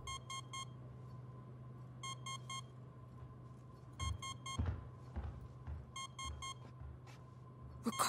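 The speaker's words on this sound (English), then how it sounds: "What is that beeping mad loud?" Loud electronic computer beeping inside Alien: Isolation, sounding in repeated bursts of rapid high bleeps roughly every two seconds over a steady low hum, with occasional thumps in between.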